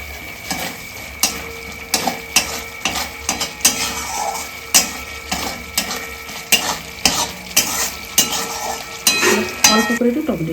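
Spices being stir-fried in a pan for a Bengali home-cooked dish, with a spatula scraping and clanking against the metal in a regular rhythm over a constant close sizzle, and no talking.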